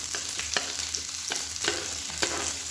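Finely chopped onions fry in hot oil in a kadai for tomato chutney, a steady close sizzle broken at intervals by sharp scraping stirs of the spatula.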